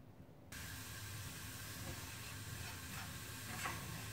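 Grated carrots with sugar sautéing in a pan on the stove, a steady close hiss of sizzling moisture after a quiet start, with faint stirring scrapes.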